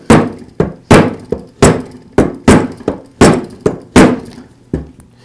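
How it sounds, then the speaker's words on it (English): Rubber shop mallet knocking a part into place on an Echo string trimmer engine during piston ring repair, about a dozen sharp, close thunks in uneven rhythm, each with a brief ringing decay, no talking. "I'll give it a couple of taps with the rubber shop mallet."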